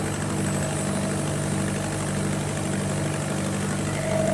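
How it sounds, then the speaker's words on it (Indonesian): A smaller four-cylinder engine, the second engine aboard a lift-net fishing boat, runs in the engine room with a loud, steady, unbroken drone and mechanical hum at close range. "Nah, mesin kedua ini lebih kecil sedikit, hanya 4 silinder."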